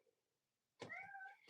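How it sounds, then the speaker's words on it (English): A pet cat gives one clear, drawn-out meow nearby after a moment of near silence. "Come here, you kitten."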